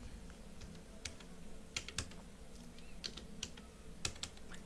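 Keys clatter on a computer keyboard at close range, the taps irregular with a few louder strokes, and no voices are heard.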